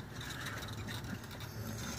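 Ratchet loosening a bolt on an EZGO golf cart starter generator, with rapid clicking pawl strokes in a quick steady run over about two seconds, close up with no talk.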